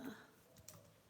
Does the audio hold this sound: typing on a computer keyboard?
yes